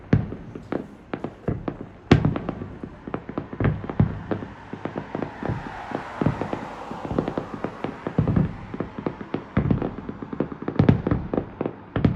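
Fireworks burst at night under the moon, a dense, irregular run of sharp cracks and pops, some close and loud, others fainter, crackling continuously over a low rumbling wash.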